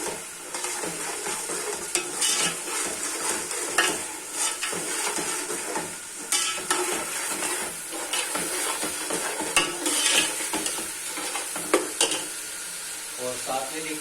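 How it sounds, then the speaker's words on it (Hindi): Ground spice masala fried and stirred in a pan for a Pakistani chana pulao: continuous close sizzling with repeated scraping stir strokes and small clinks throughout, no one talking. "इस मसाले को भी थोड़ी देर भूनेंगे"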